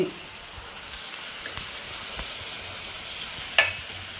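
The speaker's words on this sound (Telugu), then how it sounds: "ఈ విధంగా ఆయిల్తో మగ్గిపోయాను ముక్కలన్నీ" Cluster bean pieces cook in oil in a kadai with a soft, steady sizzle, a few light scrapes of stirring and one brief clink near the end.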